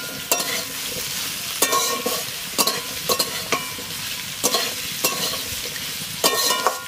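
Potatoes and squash fry in a pan, with a constant sizzle beneath repeated scraping stirs that land in irregular bursts, loud and close.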